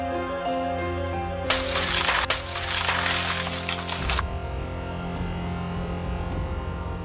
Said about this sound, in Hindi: क्रिश मैं मजाक नहीं कर रहा, मैं कांच तोड़ के अंदर आऊंगा।